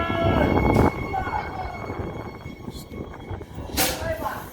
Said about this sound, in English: This is another Ellenbrook train.